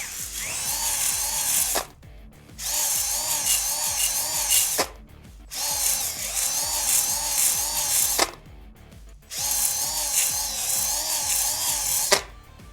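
Drill-driven hone working engine cylinder bores lubricated with WD-40 on an LS engine for an S10 build, loud steady buzzing grind in four long bursts separated by brief pauses.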